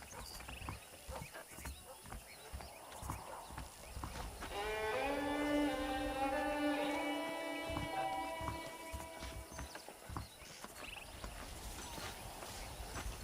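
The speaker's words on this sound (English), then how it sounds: "The horses are saddled up over here." Horses' hooves clip-clop steadily in Red Dead Redemption, with saddled horses near a foreman's office, a moderate walking rhythm alongside a sustained tonal musical or ambient layer in the middle of the clip.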